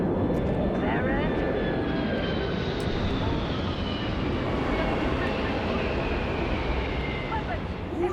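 A spaceship in Starfield roars in from orbit. The loud, continuous engine rumble and whine carry through the whole stretch, with a voice talking over it.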